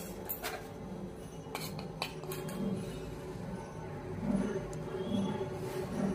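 A spoon clinks against a dish while rock sugar and gulkand are mixed for a traditional paan offering, a few sharp, soft clinks spaced apart over a low steady background hum.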